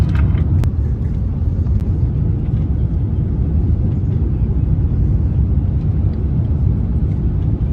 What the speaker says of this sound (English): our aircraft will be landing shortly